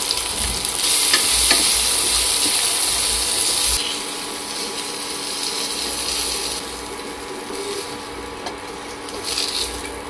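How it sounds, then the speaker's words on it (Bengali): Capsicum and onion frying in a pan with salt, a steady broadband sizzle with occasional stirring scrapes, louder for the first few seconds, then settling to a softer even hiss; no talking. "এবার ক্যাপসিকাম পেঁয়াজটা ভেজে নেবো"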